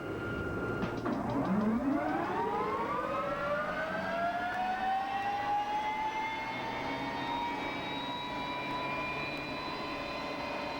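A NOTAR helicopter running, its loud turbine whine sweeping upward in pitch over the first seconds and then holding as a steady, strong drone that continues to the end, with no voices.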